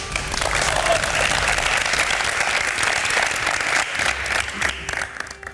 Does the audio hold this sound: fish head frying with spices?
no